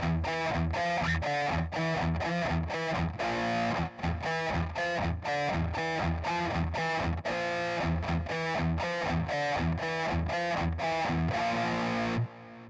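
Heavily distorted electric guitar chugs through a riff in fast, tightly palm-muted rhythmic bursts, loud and dense throughout with no voice.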